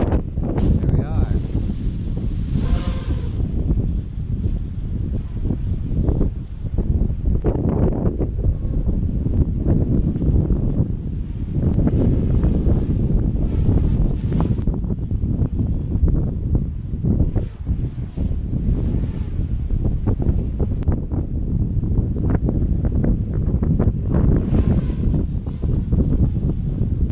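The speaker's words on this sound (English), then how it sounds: "As you can hear, it is quite windy." Strong gusty wind buffets the microphone outdoors while an Armattan CF258 drone is flown, a loud continuous roar with shifting surges throughout, and a person talks intermittently over it.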